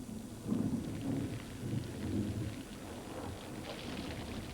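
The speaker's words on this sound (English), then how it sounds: "the thunder and torrential rains that invade the chapels and drench the gargoyles" Heavy rain pours steadily over a Paris church with chapels and gargoyles while deep thunder rumbles and rolls underneath, a dense continuous storm wash with no voices.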